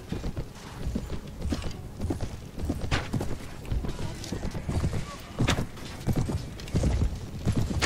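Horses gallop in a battle charge in Mount & Blade: Warband, with dense, rapid clip-clop hoofbeats from several mounts close by and continuing steadily, along with occasional creaks and a faint whinny.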